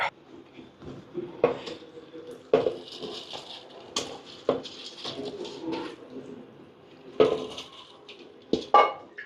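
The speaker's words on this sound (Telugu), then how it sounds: "రైస్ వేసుకొని మంచిగా ఇట్లా కలిపేసుకుందాము" Soaked basmati rice is tipped into a pot for vegetable pulao and stirred in, with scattered clinks and scrapes of a spoon against the metal and soft rustling between them. The sound is fairly quiet and close.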